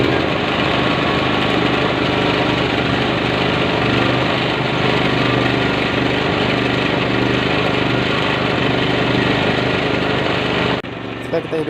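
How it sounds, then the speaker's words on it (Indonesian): A portable genset generator engine runs as a steady, loud, close mechanical drone with a constant vibrating hum that cuts out abruptly near the end, and a voice speaks over it. "Kita akan menghidupkan genset."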